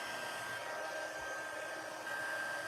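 Heat embossing tool blowing hot air over embossing powder on a stamped card, a steady whooshing fan roar with a thin electric whine, constant and fairly close, with no talk.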